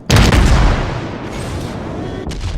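Heavy battleship shells slam into a cruiser's citadel in World of Warships, Tier 8 Atago, as one loud booming impact bursts in and then trails off into a rumbling, echoing decay.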